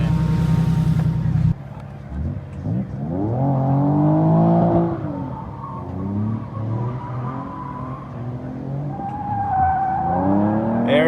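A stock naturally aspirated Nissan Z32 300ZX drifts around a cone, engine droning and sliding tires squealing loudly in long wavering tones, close by, with voices talking over it.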